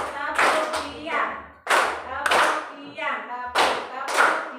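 A group playing a clapping game in a classroom session claps in sharp bursts during a second round, several claps spaced across a few seconds, mixed with voices speaking and calling out between and over the claps.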